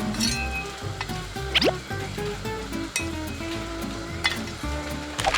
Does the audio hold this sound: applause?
no